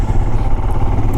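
Royal Enfield Himalayan motorcycle riding along, its engine a steady low rumble with wind noise, continuous and fairly close throughout.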